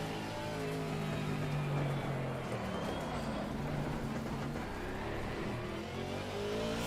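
Race car engine in a driving simulator video game, a continuous loud revving whine that rises and falls with shifting pitch as the car is pushed into oversteer.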